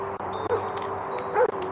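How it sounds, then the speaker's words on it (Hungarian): Whimpering dog inside the VR game House Builder VR, two short high whines a second apart over a steady hum of in-game background noise. "Kutya nyifog"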